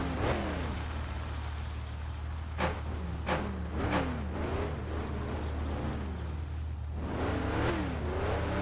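The Dustman vehicle from My Summer Car runs at top speed, a steady low engine drone with rising and falling rev sweeps and a few sharp knocks, with no talking over it.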